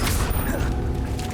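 Expelliarmus spell cast in the Hogwarts Legacy video game: a brief loud magical boom and whooshing burst, dense and close, fading quickly amid game sound.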